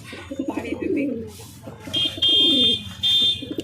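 Lakkha pigeons coo close by in low, throaty bursts, with a thin high electronic beep sounding alongside.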